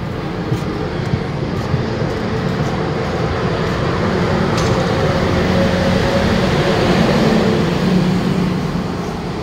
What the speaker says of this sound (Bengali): ট্রেনটি তার পরের হল স্টেশন বাগারাকোট যাওয়ার জন্য সেবক স্টেশন থেকে ছেড়ে দিল